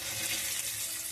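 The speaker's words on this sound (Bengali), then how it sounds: "আমরা এই গরম তেল আর এই ভাজা পেঁয়াজের মধ্যে দিয়ে দেবো একটা গোটা রসুন" Sliced onions and a whole head of garlic sizzle and crackle in hot oil for a country chicken curry, a close, steady frying hiss with no talk.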